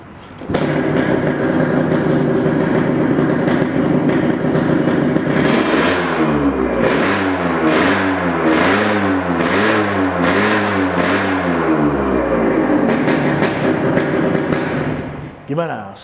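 A custom motorcycle engine idles with a rough, loud, extreme rumble, then revs up and down repeatedly in rhythmic bursts before settling back and cutting off.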